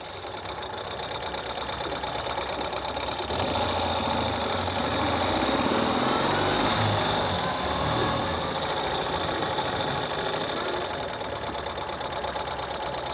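A 2023 Ural Gear Up 2WD overland-build sidecar motorcycle engine running steadily on a ride, a loud continuous mechanical drone with rapid rattling pulses that swells slightly midway, with no voices over it.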